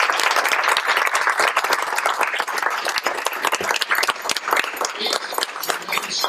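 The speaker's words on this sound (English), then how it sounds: "Let's give them a round of applause." A crowd at a Veterans Day event gives a round of applause for standing veterans, dense loud clapping from many hands sustained throughout with a few whoops and voices mixed in.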